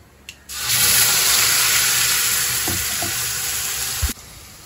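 Water mixed with a ground paste is poured into a hot cooking pot while making mutton chops and rasam, a sudden loud sizzling rush lasting several seconds before cutting off, with a few faint clinks.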